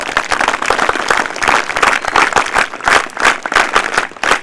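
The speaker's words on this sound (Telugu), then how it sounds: "ఒకసారి వాళ్ళందరి క్లాప్స్" Yoga participants at an International Yoga Day gathering on a CSI ground, organised by the NCC, applaud together in a dense, steady burst of clapping that swells and pulses for several seconds without talk.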